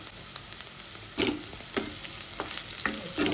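Onion and turmeric frying in a pan for Maharashtrian kanda poha, with a steady sizzle broken by a few sharper scraping stirs of a spoon against the pan, close and moderately loud, with no voices.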